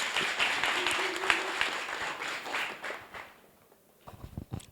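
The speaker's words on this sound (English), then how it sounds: "give Andisiwe a round of applause, colleagues" A luncheon audience applauds with dense, lively clapping that fades away after a few seconds, leaving a handful of scattered claps.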